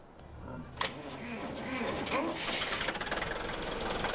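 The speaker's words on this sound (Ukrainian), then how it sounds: "трактор гарно запустився гарно працює так, як має бути" In Farming Simulator 17, an MTZ-892.2 tractor: a click, then the engine cranks and catches, settling into a steady rumbling idle with a rhythmic chug.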